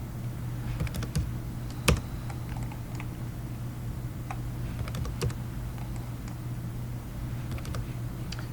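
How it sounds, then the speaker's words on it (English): Typing on a computer keyboard while entering a dimension in Revit software, a quiet run of light, irregular key clicks with a couple of sharper taps, steady soft background hum, no talk. "typing in 10 for my dimension"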